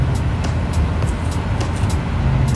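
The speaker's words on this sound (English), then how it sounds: "So the car is actually fairly quiet." Steady low road rumble inside a moving 1999 Toyota Corolla, a broad continuous drone of tires and engine with faint ticking above, no talk over it.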